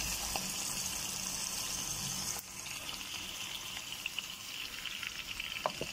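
Bangus (milkfish) fries in a pan with a steady bright sizzle and crackle, with a softer dip partway through as it keeps spattering, no voices.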